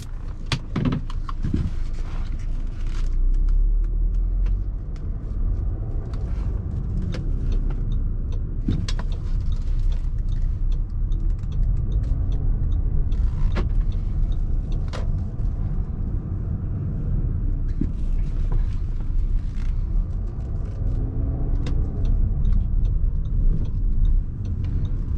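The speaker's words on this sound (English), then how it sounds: "Now let's go ahead and buckle up and take it out for a spin." A 2016 Audi Q3 Komfort heard from inside the cabin while driving on a hot day with the air conditioning running: a steady low engine and road rumble with wind noise, plus occasional faint clicks and bumps.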